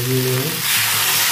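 Water poured into a pan of frying potatoes with chilli and spices gives a brief burst of loud sizzling and hissing that swells after a short moment.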